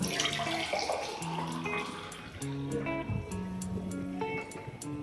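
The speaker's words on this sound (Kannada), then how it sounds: "ಬಿಸಿನೀರು ಹಾಕಬೇಕು" Hot water poured onto a spoonful of Afresh Kashmir Kahwa saffron drink powder in a cup, a soft continuous trickle and splash heard faintly beneath background music.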